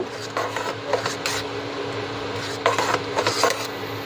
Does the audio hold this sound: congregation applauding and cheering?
no